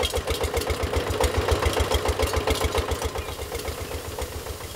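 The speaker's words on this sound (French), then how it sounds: "Il s'agit maintenant de pomper l'eau du fleuve au moyen du moteur diesel." Diesel engine driving a water pump that draws water from a river, chugging with a steady rapid pulse close by, fairly loud and alone, easing slightly toward the end.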